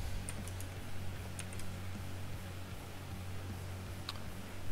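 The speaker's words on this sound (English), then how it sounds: "typing without an index finger is so fucked" Light, sparse clicks of typing on a computer keyboard while programming, a few scattered keystrokes over a quiet room hum with no one talking.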